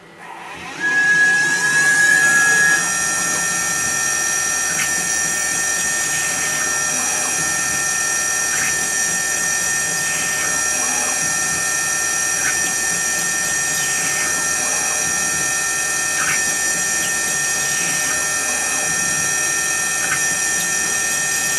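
A Tormach PCNC440 CNC mill runs a 2.5mm drill ahead of tapping, giving a steady high spindle whine over a low machine hum, with faint periodic ticks as the drill pecks.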